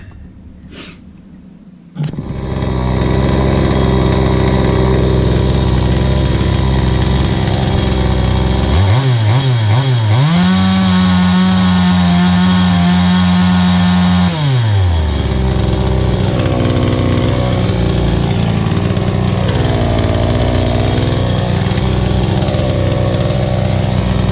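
A Craftsman 55cc chainsaw with a newly replaced carburetor starts up and runs loud and close, settling into a steady idle, then revving hard to a high, even whine for several seconds before dropping back to a rough, uneven idle.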